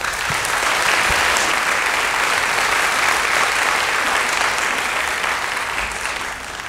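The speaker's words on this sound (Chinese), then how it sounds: "请各位嘉宾给予热烈掌声，欢迎他们的表演。" Steady, dense applause from a concert audience after a piano quartet's Czardas performance, sustained and loud for the whole stretch and easing slightly at the end.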